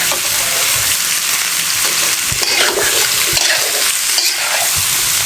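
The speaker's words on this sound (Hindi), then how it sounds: "इसको मैं फ्राई कर लूँ तकरीबन 3 से 4 मिनट" Mutton pieces for a Peshawari namkeen karahi fry hard in a pan, with loud, steady sizzling and frying noise and bursts of stirring and scraping throughout.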